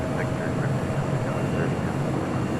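An airliner takes off from runway 2 left at LAX, a loud continuous engine roar close and steady throughout, with a voice talking over it.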